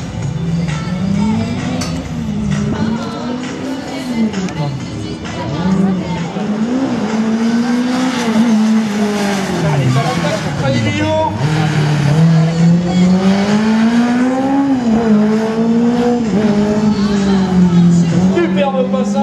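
A race car on a slalom course at Agon-Coutainville in 2019 roars continuously, its engine note swooping up and down through the turns with tire squeal, loud and close, while a commentator talks over it.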